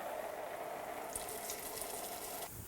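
Raw white beans poured into a simmering pot for a ham hock and white bean dish, a steady close rush and patter of pouring lasting a few seconds before cutting off.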